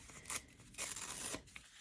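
Paper image being ripped up by hand for a junk journal spread, with several short, crisp tearing bursts close up and brief pauses between them.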